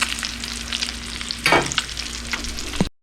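Freshly caught fish cooking in a pan with peppers, close to poaching rather than true frying, giving a steady loud sizzle with a brief louder burst midway and no talking.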